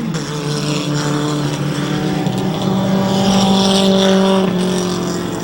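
Dirt modified race cars lapping a dirt speedway, loud sustained engine roar with shifting pitch as several cars circle nearby, continuous throughout without voices.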